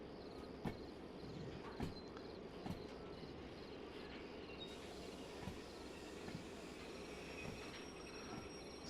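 A long, heavy freight train in Derail Valley rolls steadily along the track, with a continuous low rumble and a few brief wheel clacks and squeals, loud and close, and no voices.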